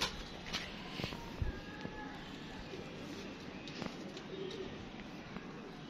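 Teddy pigeons, a Sialkoti pair, give soft, low cooing amid steady background noise and a few scattered bumps, faint and somewhat masked.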